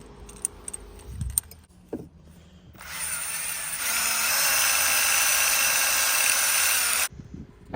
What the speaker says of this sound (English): So I started out with honing out the cylinder.